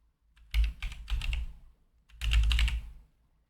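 Typing on a computer keyboard, two quick close bursts of clattering keystrokes separated by a short pause.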